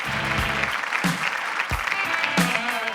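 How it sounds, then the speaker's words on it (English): An audience at a conference talk claps steadily in a full, warm round of applause, with no voices over it. "Please give a round of applause to Matt Dixon."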